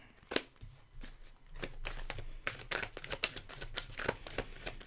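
Tarot cards are shuffled by hand in quick, uneven riffles and slaps, a close, quiet flurry of papery snaps.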